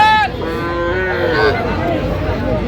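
Sahiwal cattle at a busy cattle market moo close by in one long, drawn-out call with a rising and falling pitch, over steady crowd murmur.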